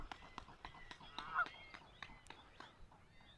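Repeated goose honks come in short bursts at Cape May Point State Park, New Jersey, several calls spaced irregularly at moderate distance, with one louder honk near the middle.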